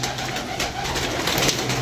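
Pigeons coo in low, throaty murmurs at a pigeon loft, a steady close chorus of soft calls with no talking.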